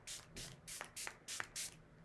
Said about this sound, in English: So what I'll do is shake it up and just spray a little bit